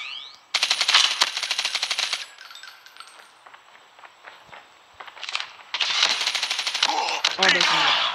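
Rapid submachine gun bursts in a Call of Duty match, two long sustained strings of loud automatic fire separated by scattered shots and clinks, with game sounds between.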